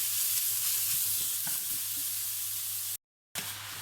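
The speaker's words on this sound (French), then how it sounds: "J'ajoute ma viande, morceau par morceau, et je mélange bien." Pieces of meat go into a frying pan and get stirred, giving a loud, close sizzle with scraping stirs and small clacks, then a brief cut to silence before the sizzle comes back.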